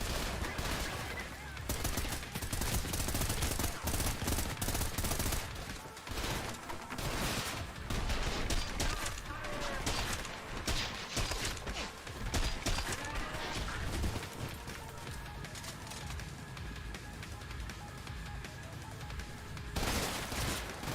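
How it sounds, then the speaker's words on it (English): Video game gunfire rattles in dense, continuous bursts of close shots and automatic fire, with busy background effects and brief pauses between volleys. "you just shoot your own guy like that"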